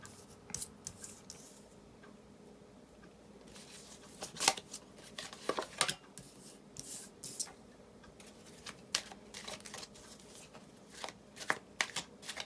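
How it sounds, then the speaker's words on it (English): Tarot cards are handled and shuffled close up, with quick crisp riffles and soft slaps of cards being laid down in scattered bursts against a quiet room. "pull our second row of cards to get some interpretive meanings"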